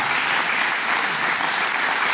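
A church congregation applauds together in a dense, loud, steady wash of clapping that fills the whole moment, with no voice rising above it.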